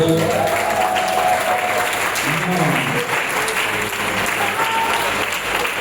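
A worshipping congregation at a closed spiritual retreat applauds loudly and continuously, a thick roar of clapping with scattered voices and faint musical tones mixed underneath.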